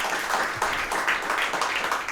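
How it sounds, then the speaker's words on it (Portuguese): A small group claps for Miguel's book at a breakfast talk show, a soft, steady patter of hands at moderate distance with no talking. "Uma salva de palmas para o livro do Miguel,"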